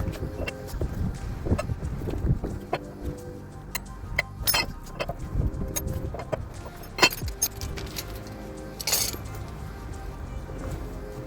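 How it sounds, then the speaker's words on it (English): A wheel lock nut key clinks and jangles repeatedly against other metal up close while a 2019 Chevy Malibu's rear brakes are worked on, with sharp metallic chinks over low rumbling handling noise. "I'm showing you the key that opens up the lock nut that holds that pretty much protects the rim from someone trying to take the tire"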